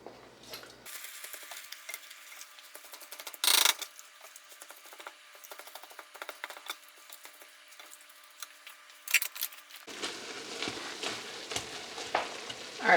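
Meat frying in a very hot pan sizzles and crackles steadily up close, with scraping stir and utensil clicks partway through and a louder, fuller sizzle toward the end; no one speaks.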